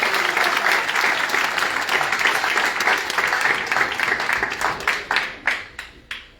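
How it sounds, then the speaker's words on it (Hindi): Audience applause at a wellness business seminar, a dense sustained crowd of clapping that thins out toward the end into a few scattered final claps, with no voices over it. "तो ताली मार के जा सकते हैं।"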